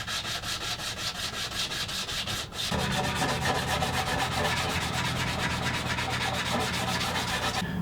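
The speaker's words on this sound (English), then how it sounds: "I can go ahead and get this thing sanded down" A power sander works across the surfaces of a wooden end table, giving a continuous loud rubbing whir that grows heavier and fuller partway through and carries on steadily.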